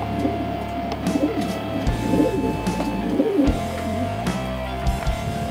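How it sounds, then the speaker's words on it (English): Soft, low cooing from a pigeon repeats in a steady rhythm, close by, over a faint mechanical hum. "It's a nice pigeon this, there's a good shape about him."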